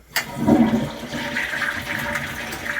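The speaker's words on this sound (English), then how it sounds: "you flush the toilet and instead of just filling up down here, it fills up here and then goes down" Japanese toilet with a sink-top tank: a sharp flush click followed by rushing, gurgling water as the tank refills, steady and close for a few seconds.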